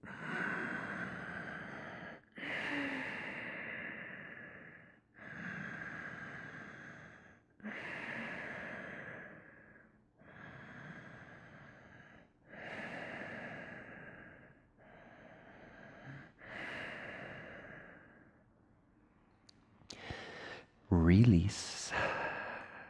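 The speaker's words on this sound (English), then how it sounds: "Close your eyes, about 4 or 5 breaths," Slow, deep breaths held through a revolved triangle yoga pose, about eight long even inhale-exhale cycles close to the microphone, each soft and airy, followed by a brief louder rustle near the end.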